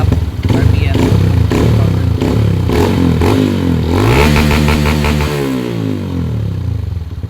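A Honda CRF150L motorcycle with a fuel-injection engine, freshly cleaned and remapped, revving hard to near 9,000 RPM, a loud close rasping engine note that climbs and sweeps in pitch, with someone talking over it.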